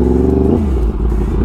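A 2016 Yamaha R1 motorcycle engine running loud and close, with a deep, steady rumble whose pitch wavers and drops partway through a short burst.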